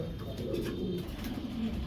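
Fancy high-flying pigeons coo softly and continuously in a low, throaty murmur over a steady background rumble, with no single call standing out.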